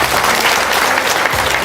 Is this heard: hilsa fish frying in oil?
no